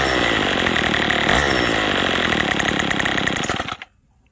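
A small engine runs loud and buzzy at a steady, rough idle set a little too low, then cuts out abruptly near the end, leaving silence.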